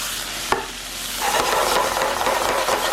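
Tomatoes and their juice dropped into a hot pan beside pork tenderloin, chickpeas and peppers, a sharp clatter followed by a loud, steady sizzle and frying hiss with no talking.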